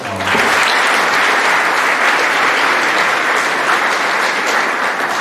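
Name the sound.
audience applause at athletic awards night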